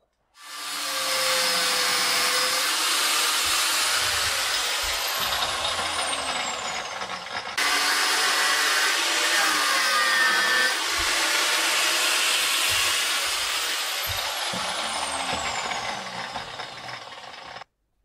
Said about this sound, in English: grind a bit more.